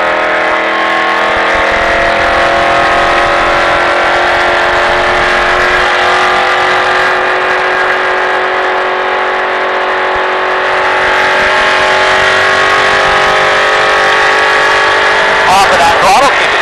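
A NASCAR race car driven by Nick Graham on a track in Las Vegas, a loud continuous engine roar heard from inside, rising and falling in pitch through throttle lifts and acceleration, with a voice coaching over it.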